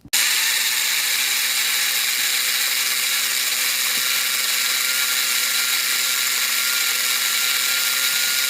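A food processor grinds hard, dried-out celery stalks with salt, a loud, continuous high-pitched whir that starts abruptly and runs steadily without pause.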